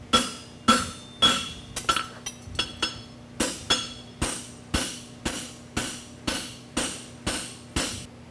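A blacksmith strikes a horseshoe on an anvil at a world championship forging contest, shaping a plain stamped roadster shoe: a steady run of about fourteen sharp, ringing metallic blows, close and evenly spaced, each with a brief decaying ring.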